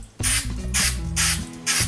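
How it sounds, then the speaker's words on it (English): Spray glue from an aerosol can hisses onto a paper label in three short, close, loud bursts separated by brief pauses. "you got your spray glue here. And you're just going to give it a little bit."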